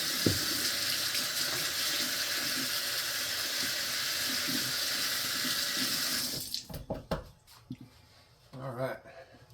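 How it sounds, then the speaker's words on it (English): Hands washed under a running kitchen tap while making apple crisp mini cheesecakes, a steady loud gush of water for about six seconds that stops abruptly, followed by quieter handling sounds and brief talk. "let me wash my hands real quick"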